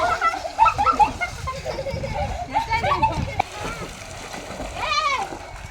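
Family swimming outing in Narsampet, Warangal, with people jumping and splashing into shallow water, splashes and sloshing heard close by under continuous excited chatter and children's voices.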